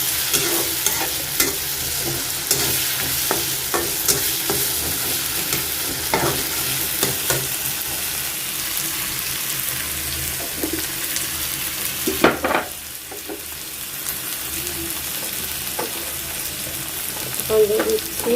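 Rui fish roe with ginger and garlic sizzles steadily in a pan as a spoon stirs it, the frying hiss continuous and fairly loud, with scraping stirs at intervals and a brief pause near the end.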